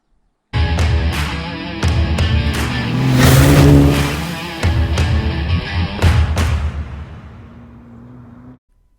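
An overlanding vehicle drives gravel trails near Greyton, its engine rumbling loudly and swelling in a rev before settling, with repeated crunching knocks from the rough surface, then cutting off near the end.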